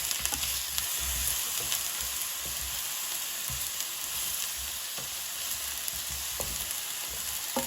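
Pineapple pieces sizzle steadily in a frying pan over medium heat, with a constant loud hiss broken by soft scrapes and clicks as they are stirred, with no one speaking.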